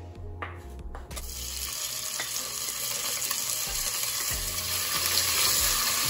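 Ginger garlic paste sizzles steadily in hot oil, a constant crackling hiss with occasional stirring clunks from a utensil against the pan.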